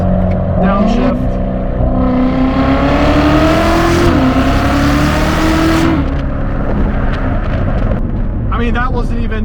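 A C7 Corvette Z06 engine revs loud and close, its pitch climbing through hard acceleration and then dropping with a series of quick downshifts, heard from inside the car.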